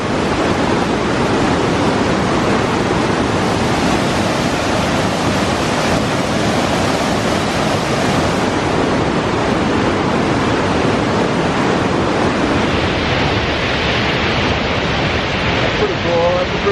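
Loud, steady roar of the rushing Boulder River in Montana filling everything, a constant broadband wash with some wind buffeting, no talk heard over it.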